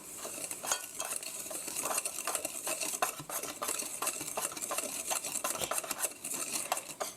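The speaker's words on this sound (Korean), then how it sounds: "이제 고루 섞어주세요" A utensil scrapes and clinks steadily around a bowl, stirring lemon cake batter with sugar and salt, continuous close-up swishing and occasional taps, no voices.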